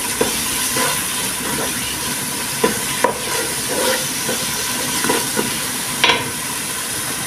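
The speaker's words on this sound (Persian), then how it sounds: "کاملا با پیاز هامون مخلوط میکنیم. به حدی مخلوط میکنیم که خامی ادویه ها گرفته بشه." Spices being stirred into onions in a frying pan for a Persian northern-style sweet stew, with a steady sizzle and repeated scraping strokes of the utensil recurring every second or so.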